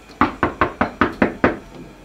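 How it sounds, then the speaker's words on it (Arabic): Seven sharp knocks on a bedroom door, evenly spaced in a quick steady rhythm, loud and close with no voices. "انا مش قلتلك مليون مرة ما بحبش حد يخبط عليا باب اوضة النوم"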